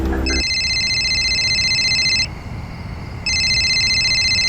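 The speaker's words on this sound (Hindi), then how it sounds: "हाँ तेरा फोन बज रहा है।" A mobile phone rings indoors at night with a loud, steady electronic ringtone, two bursts separated by a short gap, alone without talk.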